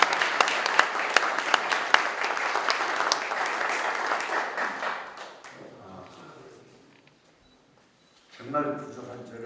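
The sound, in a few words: applause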